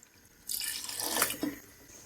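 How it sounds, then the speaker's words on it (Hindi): Half a cup of water is poured into a pan of Punjabi-style chicken Patiala with capsicum and onion, a close splashing gush lasting about a second before trailing off. "आधा कप हम इसमें पानी का ऐड कर देंगे"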